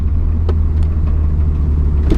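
A small race car's engine and exhaust rumble steadily from close by, with a low droning note and a few brief higher bursts, and no speech.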